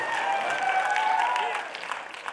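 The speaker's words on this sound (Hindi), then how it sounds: "अरे जोर से ताली होनी चाहिए।" An audience applauds at an awards-show red carpet event, a dense sustained clapping that fades slightly toward the end, with a voice talking over it.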